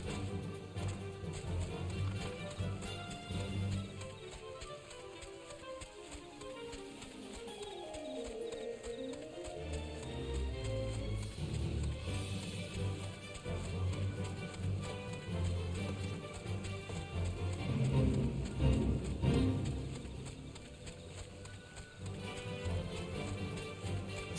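Running footsteps of a chocobo mount in Final Fantasy XIV, a steady clip-clop patter over game music and ambience, with a sliding tone in the middle and a busier stretch near the end.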